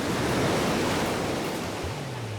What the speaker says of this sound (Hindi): सुनो भाई, ये सी बीच है।